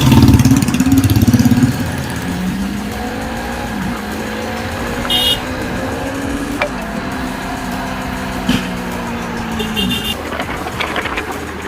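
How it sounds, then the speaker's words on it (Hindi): A motorbike engine hums steadily while riding on a road in Meghalaya, its pitch rising and falling with gear changes and throttle, accompanied by wind noise and a few clicks. "निकलते हैं अपनी बाइक पे"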